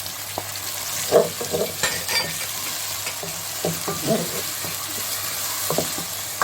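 Masala frying and being stirred in a pan while zucchini and mutton mince cook, with a steady sizzle and scattered scraping stir strokes close by, no talk.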